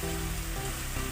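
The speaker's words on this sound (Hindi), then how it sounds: "और उसको हम हिलाते जाएंगे इस तरह मुसलसल, ताकि लगे ना नीचे और अच्छे से पक जाए।" Chickpea masala keeps frying and sizzling in a pan while it is stirred, producing a dense, continuous hiss close up with a steady hum underneath and no voices.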